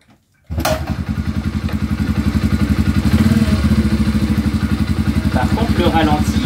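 A motorcycle engine (the Maya Maha) fires up suddenly after a near-silent start, then settles into a steady, loud, close idle with an even pulsing beat throughout.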